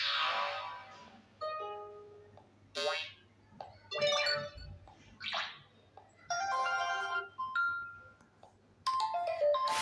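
Notification tones play one after another on an Infinix Smart 4 Plus phone at full volume, a series of short, bright electronic chimes and melodic jingles with brief gaps between them.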